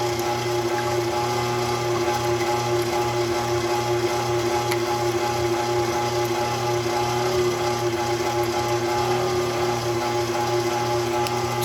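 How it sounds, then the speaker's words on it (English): Electric stand mixer running on high, whipping five egg whites in a clean mixing bowl: a steady, continuous motor whir with a constant hum, unbroken and fairly loud throughout. "I have the 5 egg whites that we separated earlier in a very clean mixing bowl attached to my mixer."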